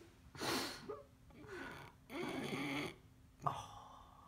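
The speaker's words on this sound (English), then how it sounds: "Oh, you snoring" A sleeping dog snoring softly, with several breathy snorts and inhaled rumbles in an irregular rhythm, close and quiet with no talk over it.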